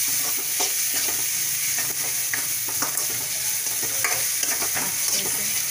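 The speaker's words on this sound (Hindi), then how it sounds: "अब इन सबको हम मिक्स कर लेते हैं अच्छे से" Ridge gourd is stirred and mixed with spices and amchur powder in a frying pan, a steady sizzle under repeated scraping and clinking strokes of the spoon, close and continuous with no talking.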